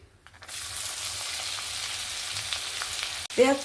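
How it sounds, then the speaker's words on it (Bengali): Chopped onions with slit green chillies hit hot oil in a pan while a prawn malaikari is being cooked. A loud, steady sizzle starts after a brief pause and continues close by with no talk. "এবার আমি এখানে দিয়ে দেব পেঁয়াজ কুচি।"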